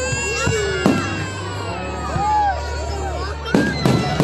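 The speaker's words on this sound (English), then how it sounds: "Rocket ships are they're not rocket ships, they're fireworks." Canada Day fireworks explode outdoors, with two sharp, loud booms about three seconds apart and crackling between them, while people talk and exclaim over the steady background.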